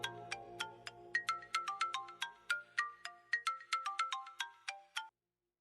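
A phone ringtone plays as a call is placed, a melodic run of bright chiming notes in a quick steady rhythm, close and clear, stopping abruptly after about five seconds with no talk.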